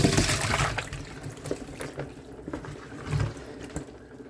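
Pickles rinsed under cold running water from a kitchen tap, a steady splashing flow with a few louder gushes and clatters, close and alone without talk.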